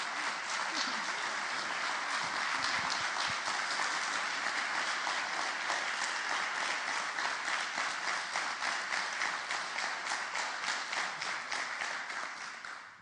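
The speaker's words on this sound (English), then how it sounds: "Give them a round of applause." Audience applause for the nominees at the EODF 2018 opening and awards ceremony, a steady dense clapping from a crowd that holds for about twelve seconds before tapering off, with a faint voice underneath.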